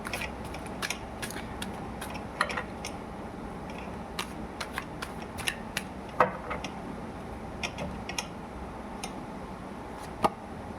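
Tarot cards drawn out and handled, giving soft, scattered ticks and flicks of card stock, close and fairly faint, spread irregularly over a steady low background hum.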